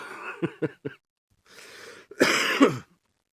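A few short coughs and throat-clearing sounds, close up, followed by a breathy exhale and a harsher rasping cough.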